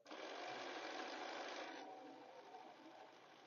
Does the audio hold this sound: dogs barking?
no